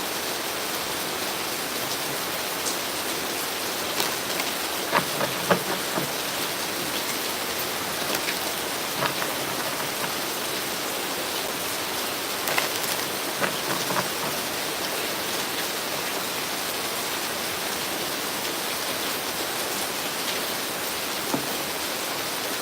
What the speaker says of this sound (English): I'm glad you guys like the rain.